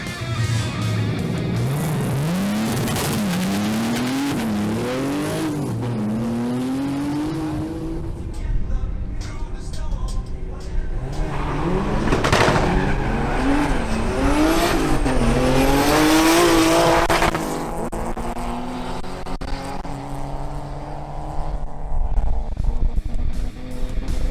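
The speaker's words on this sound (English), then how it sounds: "Leonardo Lillo in his BMW 325i E36 makes his qualifying run." A BMW 325i E36 makes a drag racing qualifying run, its engine revving hard through repeated rising gear pulls, loud and close, with a second surge of acceleration and crowd and track noise around it.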